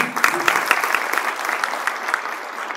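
An audience applauds to welcome a speaker at a talks event on the nature of time, a steady dense wash of many hands clapping, fairly loud and sustained without pause.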